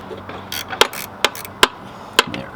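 A 13 mm wrench works a bolt on a 3.6L Pentastar engine, making four or five sharp metallic clicks and snaps spaced irregularly over quiet background, close and fairly crisp.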